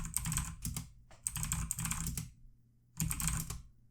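Password keystrokes on a computer keyboard while setting up a Django admin superuser, clicking close and crisp in three quick bursts separated by short pauses.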